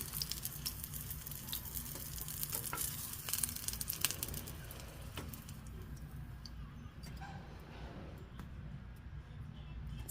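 Shishito peppers fry in oil in a pan, giving a faint, steady sizzle with small crackles and pops throughout. The sound is low-level and continuous.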